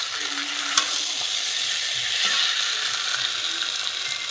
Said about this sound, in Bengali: এখানে ভালোভাবে মশলাটার সঙ্গে আলুটা কষিয়ে নিয়েছি